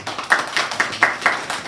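A church congregation at a Sunday service claps in encouragement: sharp, separate claps in a loose, rhythmic pattern, close and moderately loud.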